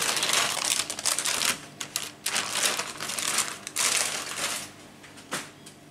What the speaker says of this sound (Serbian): Dok je još topao, skinite papir